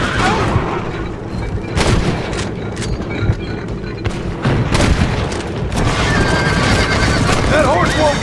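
A horse neighs amid a loud Red Dead Redemption scene, with hoofbeats, booming gunfire and shouting voices layered densely over one another.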